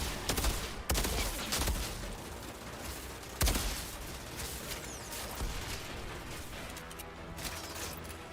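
Minigun barrage in Outriders, rapid dense gunfire with heavy bursts and sharp booms near the start and around the middle, then sustained rattling fire that stays fairly loud and close throughout.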